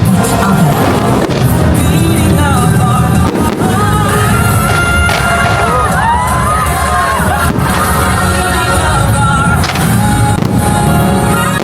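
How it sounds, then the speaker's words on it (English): Fireworks show at EPCOT in Walt Disney World, heard as a loud, continuous wash of crackles and booms from a crowd's vantage point, with cheering and shouting mixed in throughout. "It is such a good fireworks now."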